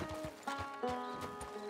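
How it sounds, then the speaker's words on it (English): Horses' hooves clip-clop at a walk in the Red Dead Redemption 2 video game, in a quiet, steady rhythm with no talk over them. "We must not fall off the horses."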